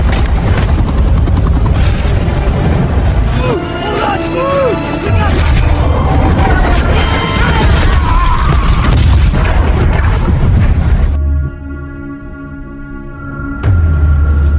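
A bomb drop from The Expendables 3 action movie erupts in loud, sustained booming blasts layered with helicopter rotor roar and crashing debris, continuous and overwhelming before cutting to a sudden quieter tonal stretch and a final burst.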